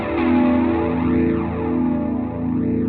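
Electric guitar run through the Bias FX 2 American Dream preset rings out in sustained, chorus-swept chords with a sweeping modulated wash and light distortion, steady and close for a few seconds with no talking.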